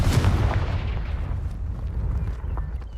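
The Confringo spell in Hogwarts Legacy detonates in a heavy, booming blast whose rumbling tail slowly decays over a few seconds, with a few faint crackles trailing behind.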